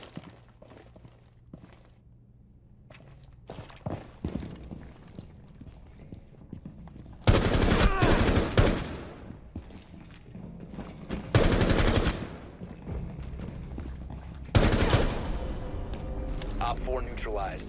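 Gunfire in the video game Rainbow Six Siege: loud bursts of rapid automatic fire come in several separate volleys over quieter game ambience and scattered single shots.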